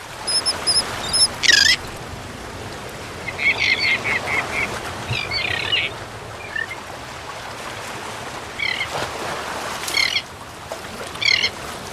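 A royal tern, a large seabird, giving harsh raspy calls in short bursts, some single and some in quick clusters, spread over a steady outdoor background wash that sounds like surf or wind.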